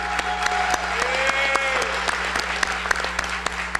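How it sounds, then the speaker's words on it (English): Steady applause from an audience at a high school signing-day ceremony, dense hand claps with a few sharp louder claps standing out, a faint voice or whistle-like tone drifting over the top. "everyone, please give him a round of applause"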